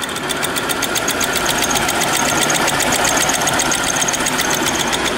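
An experimental motor generator runs loud and close, its rotor energized. It produces a steady, fast mechanical whir with a rapid, even rhythmic ticking that holds constant from start to finish, and no one speaks.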